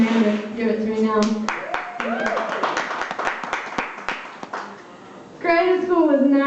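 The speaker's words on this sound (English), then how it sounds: "So I demand applause." Scattered, sparse claps from a small comedy-club audience at the West Side Showroom, bracketed by someone speaking loudly before and after.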